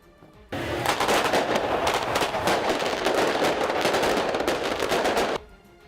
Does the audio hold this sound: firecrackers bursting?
yes